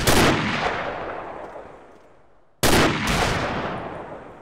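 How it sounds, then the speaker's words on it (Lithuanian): Two loud gunshot blasts in the video game Combat Arms, each followed by a long fading echo, the second coming about two and a half seconds after the first. "Pro langą šaudo."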